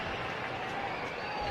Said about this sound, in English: Crowd being told to get loud,